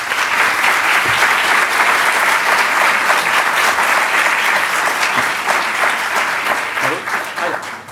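A large audience applauds a professor at a public talk, loud continuous clapping filling the room and tapering slightly near the end.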